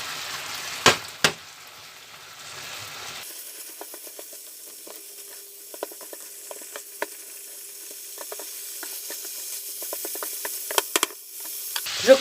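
Minced meat and onions fry in a pan with a steady close sizzle, broken by scattered clicks and pops as the mixture is stirred.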